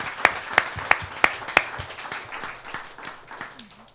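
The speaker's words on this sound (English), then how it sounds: "Please, a round of applause for our candidates." An audience at a student union election question-time event applauds the candidates. A few sharp, loud claps sound close by at first, then a softer, scattered round of clapping tapers off.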